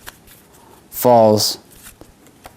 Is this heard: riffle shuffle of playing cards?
yes